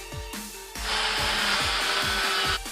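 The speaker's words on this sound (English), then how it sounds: "you want to do some rough sanding to get the edges right" Short bursts of abrasive, hissing friction as wood block edges are rough-sanded, a rough rubbing sound that swells and continues steadily for a couple of seconds.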